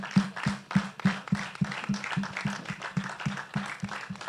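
An audience applauds in thanks at a livestreamed event, keeping up a steady, rhythmic clap in unison, about three claps per second, moderately distant and unaccompanied by talk.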